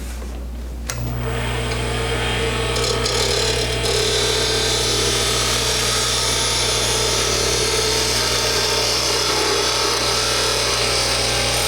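A wood lathe spins at high RPM while a tool cuts a Christmas ornament, giving a steady loud whine and hiss that starts abruptly and runs on continuously with a constant low hum beneath.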